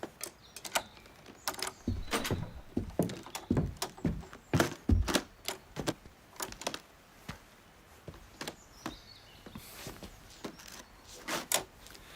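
A door handled while its lock is changed, producing a run of knocks, clicks and thunks in uneven bursts, close and fairly loud, with quieter fumbling between them.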